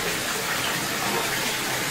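Steady rushing flow of spring water from the Gomukh spout at the Tuljabhavani temple in Tuljapur, a continuous close gush with no pauses and no voices.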